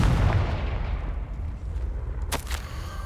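Confringo fire spell exploding in the game Hogwarts Legacy, a loud deep boom that rolls away into a rumbling decay, followed by a brief sharp crackle.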